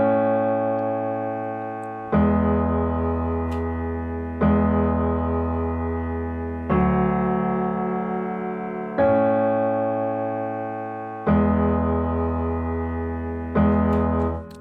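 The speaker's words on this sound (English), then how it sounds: "I used the piano, addictive keys, this one, and then the chords I played, they go like this" Six sustained two-note chords on the Addictive Keys virtual piano are struck about every two seconds. Each chord rings out and slowly decays before the next one, with no talking.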